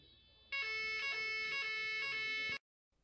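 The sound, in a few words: building evacuation alarm signal during an alarm test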